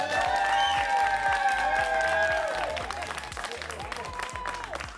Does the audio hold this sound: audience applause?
yes